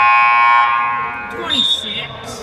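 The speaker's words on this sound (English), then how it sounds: "the buzzer goes" An arena buzzer at a junior sports game between Almonte and Perth blares a loud, sustained electronic tone that fades after about half a second, giving way to crowd noise and a voice.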